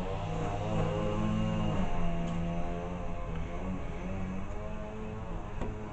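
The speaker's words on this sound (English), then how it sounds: "Excuse the noisy lawnmower outside." A lawnmower running outside, its steady engine drone continuous and fairly loud for the whole stretch, with a harmonic hum that wavers slightly; no one speaks.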